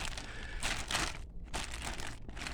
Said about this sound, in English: Okay, so we've cut the bag open.